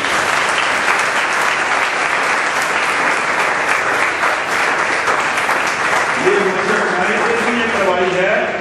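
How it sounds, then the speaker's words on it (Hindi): A church congregation at an anointing prayer service claps loudly and steadily for several seconds, a dense continuous roar of hands. Near the end a voice rises over the clapping. "तालियां खुदा के दिला।"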